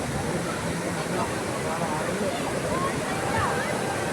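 Constant roar of rushing water from the Vadattupara waterfall in Kerala, loud and unbroken, with voices faint beneath it.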